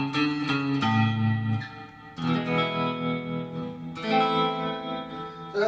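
Sustained electric guitar chords ring out through heavy reverb from a Surfybear Reverb Classic or '64 Fender Reverb Unit, with a wavering tremolo pulsing swell and long washy tails between strums.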